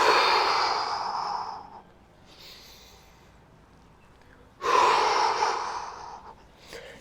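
Two long, breathy exhales during a mobility routine, close and fairly loud, with a quiet pause and a faint inhale between them.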